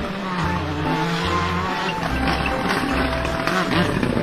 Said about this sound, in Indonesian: Brum brum brum brum brum brum. Ini mobil balap.